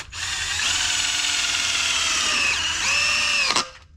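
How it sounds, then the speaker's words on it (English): Power drill bores through the rubber upper control arm bushes of a Pajero, a steady loud whine running about three and a half seconds, its pitch dipping and rising as the bit loads up, then cutting off abruptly. "just drill all that out"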